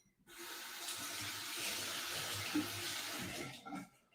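Running tap water splashes steadily as a kitchen skewer is rinsed under the faucet, a continuous close hiss that starts and stops abruptly.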